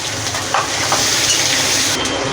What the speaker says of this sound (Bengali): বন্ধুরা আমি পেঁয়াজগুলো একটু হালকা করে ভেজে নেব।